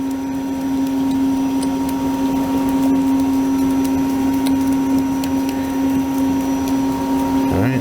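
The motor and dasher of a water ice machine whipping rocket pop mix in a steady, close, droning hum with a constant pitched whine that never changes throughout.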